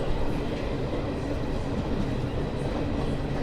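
The Millennium Express passes close by near Mathura railway station, a loud, continuous rumble of rolling rail cars with a dense wheel clatter that holds steady throughout.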